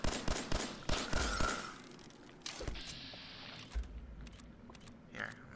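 Gunfire in Fallout 4, fired in the Glowing Sea: a rapid burst of sharp shots opening the stretch, then a few scattered single reports and mechanical clatter, with a voice talking over parts of it.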